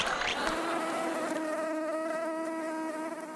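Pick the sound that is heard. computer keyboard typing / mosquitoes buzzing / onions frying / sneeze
mosquitoes buzzing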